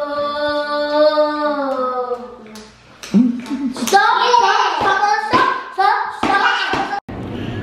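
A little girl makes a few scattered hand claps while she babbles and sings, with adult voices around her. The claps are close, sharp and irregular.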